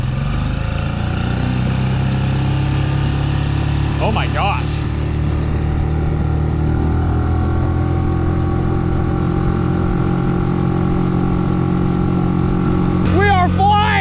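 A fast outboard motor drives a plastic jon boat with a steady, loud, close engine drone and water rush throughout, while people shout excitedly over it.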